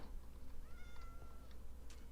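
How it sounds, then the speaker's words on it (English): A Minecraft cat gives a faint, drawn-out meow over a steady background hum, with no one talking. "I hear you, kitty."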